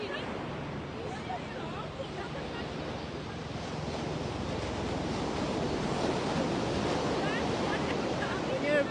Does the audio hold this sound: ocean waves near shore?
yes